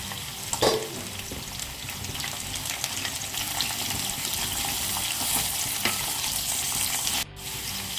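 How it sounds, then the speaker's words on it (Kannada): Bitter gourd pieces frying in hot oil in a kadai, a loud continuous sizzle with scattered stirring scrapes and a few sharp clatters, no voices. "ಹಾಗಲಕಾಯಿ ಹಾಕ್ತಾ ಇದ್ದೀನಿ. ಇದನ್ನು ಚೆನ್ನಾಗಿ ಎಣ್ಣೆಲಿ ಫ್ರೈ ಮಾಡ್ಕೊಳ್ಳೋಣ"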